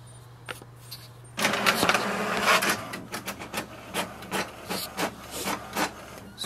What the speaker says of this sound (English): So here we can see the printer has started to print the page